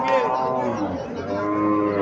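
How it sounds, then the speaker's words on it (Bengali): A cow at a cattle market in Chandimura, Comilla, gives one long, loud, drawn-out moo close by, with faint crowd murmur underneath. "এখানে একটা গাবি দেখা যাচ্ছে"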